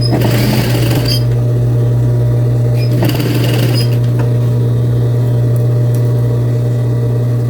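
A sewing machine stitches pleats into fabric, a loud, steady, close motor hum with a rapid needle chatter, broken by a couple of brief rustles as the cloth is moved.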